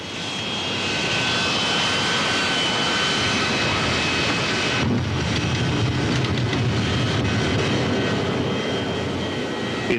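An airplane in flight drones steadily from inside the cabin, a loud continuous engine roar with a faint whine on top that holds unchanged throughout.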